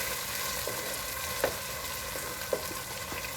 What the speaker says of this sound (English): This is what we Cubans call making a sofrito. Call a sofrito. All these things together here in the pan.